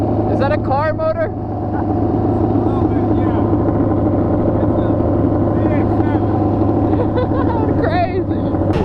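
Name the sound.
motorcycle engine swapped into a quad running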